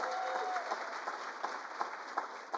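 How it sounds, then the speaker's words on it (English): Audience applause at a community champion awards ceremony in Toronto, a steady wash of clapping from a crowd in a hall with a few sharper claps poking through, moderately loud and continuous for a couple of seconds. "thank you for giving them a round of applause"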